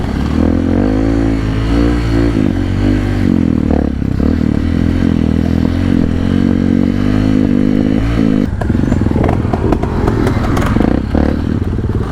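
A trail motorcycle on a rough mountain trail up Mt. Paldingan, its engine loud and close, revving and labouring with clattering and scraping from rocks and the frame, no talk.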